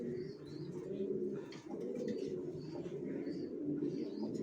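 Racer pigeons coo steadily in a loft, soft low throaty calls overlapping in a continuous murmur with a few faint higher chirps, close and fairly quiet.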